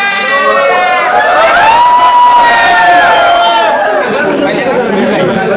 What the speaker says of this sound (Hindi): आप भीड़ देख सकते हो हमारे सारे भाई आए हुए हैं